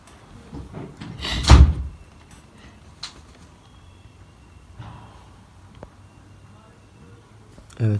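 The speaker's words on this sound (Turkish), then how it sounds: "Şu kapıyı kapa." An indoor door is pushed shut with a single loud thud near the start, followed by quiet room tone with a few faint knocks and small handling sounds.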